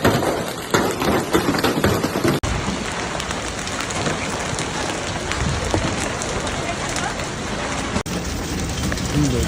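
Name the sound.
hailstorm with ping-pong-ball-sized hail in Madrid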